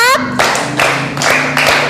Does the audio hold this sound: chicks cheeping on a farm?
no